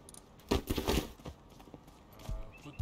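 Horse hooves in a video game clop in a short irregular burst of several hollow strikes, fairly quiet, followed by a lighter scatter of steps.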